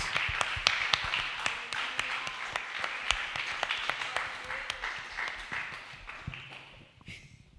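Congregation clapping in rhythm during a Bible study gathering: steady, sharp hand claps repeating through the clip, fairly close, with voices singing or talking faintly underneath before the clapping thins out at the end.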